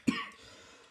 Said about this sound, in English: I'm sorry to keep coughing during this.